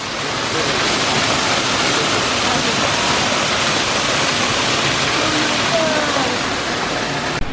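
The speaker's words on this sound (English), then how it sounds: "And here's where the waterfall comes out." The waterfall at Rock City in Chattanooga, Tennessee roars as a loud, constant broadband rush of falling water, heard up close and steady throughout.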